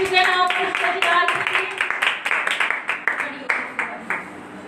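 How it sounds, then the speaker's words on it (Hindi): A Pentecostal church congregation at a Friday prayer meeting claps loudly and steadily in a regular rhythm that gradually thins out, with a voice carrying on over the clapping. "जोरदार तालियां"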